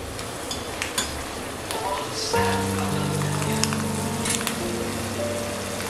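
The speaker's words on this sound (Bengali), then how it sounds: "বাদামগুলো ভাজা হয়ে গেছে" Peanuts fry in a pan for khichuri, a steady sizzle running throughout with scraping stirring strokes and occasional utensil clinks over it.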